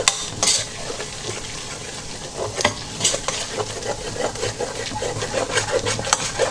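Chili-laden red oil and spices are stirred in a frying pan, a steady close scraping and sizzle with repeated stirring strokes that run without a break and without talk.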